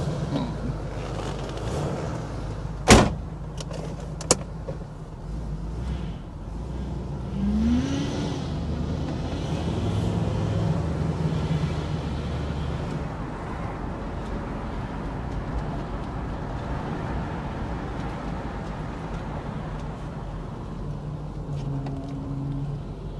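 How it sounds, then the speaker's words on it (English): A 1977 Pontiac Firebird Esprit with a 350 V8 runs with a steady low rumble, then rises and pulls away down a street, with a couple of sharp clunks early on. "We'll just drop it into gear, take it down the street and you can see it running."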